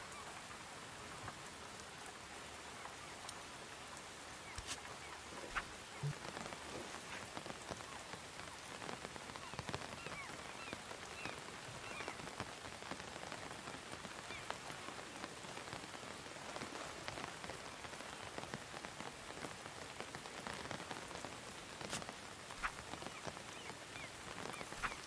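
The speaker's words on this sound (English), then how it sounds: "And shelter ourselves from the rain." Steady cold rain patters on a shelter and the ground around it outdoors, a dense, even hiss with scattered sharper drops that continues throughout at moderate level, with no speech.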